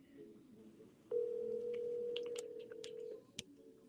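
A phone call waits for pickup, with one steady ringback tone holding for about two seconds over a quiet room while faint clicks and small noises sound around it.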